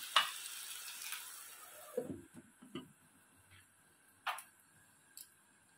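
Oyster mushroom masala cooks in a pan on a medium flame, a faint steady sizzle broken by a few soft clicks and scrapes of stirring, with no voices.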